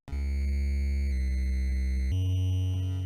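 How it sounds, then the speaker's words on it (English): Famicom APU triangle-wave channel plays a Castlevania III bassline, a smooth, hollow low tone holding three sustained notes that step down and then jump, steady and alone with no voices. "one triangle wave channel,"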